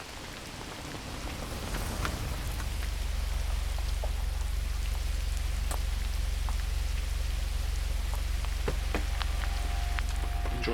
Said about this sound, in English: Enjoying the ASMR of the rain for the minute.